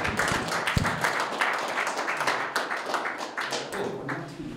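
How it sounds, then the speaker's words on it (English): A community lightning-talk audience in Denver claps steadily after a talk, dense and sustained applause from a room full of people. "Let's give Ian a round of applause."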